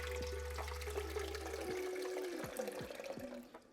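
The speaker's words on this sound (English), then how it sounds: "I'm going to add 700 milliliters of water" About 700 millilitres of water poured into a blender for a kale smoothie, a steady close gurgling pour that breaks into sloshing and trickles near the end.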